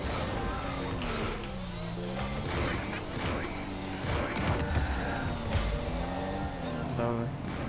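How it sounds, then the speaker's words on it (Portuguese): A car engine revs and surges in rising and falling swells under steady talk, with a few sharp knocks and clatters mixed in. "o barulho do motor do carro dele"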